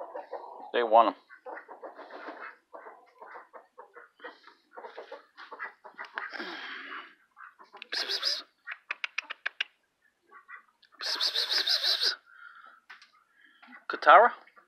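Chickens cluck in a farmyard where they are being fed lizards, with short calls and bursts scattered between stretches of people talking nearby.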